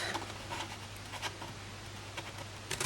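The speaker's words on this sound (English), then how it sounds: "let's just snip that off" Scissors snip through paper while a large wrapped gift box is being shaped. Faint, close dry cuts and paper rustles come in a few brief bursts against a quiet background.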